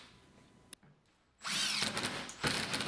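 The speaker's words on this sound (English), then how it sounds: "installing the three screws that will hold the side into the top board" Power drill driving screws into the side and top boards of a wooden floating shoe shelf, a loud sustained whirring burst after a near-silent start, with a short pause and restart toward the end.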